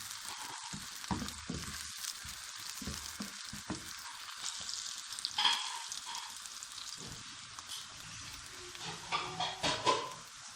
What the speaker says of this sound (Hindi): प्याज को हल्का सा फ्राई कर लेंगे।